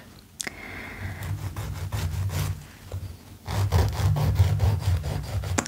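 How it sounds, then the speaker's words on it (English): Fingernails filed with a nail file on a flat surface, a series of soft, rhythmic scratchy strokes heard close and quiet, with a low hum underneath. "filing your nails on a flat surface can make it easier to shape them"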